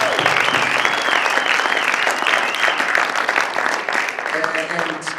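An audience at the vape hall of fame awards show applauds loudly and steadily, dense clapping with some cheering, tapering off slightly near the end.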